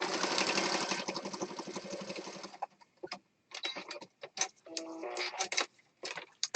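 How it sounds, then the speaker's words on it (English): A sewing machine stitches in a fast continuous run, then stops and restarts in short rattling bursts with brief pauses between. "You love that sewing machine sound?"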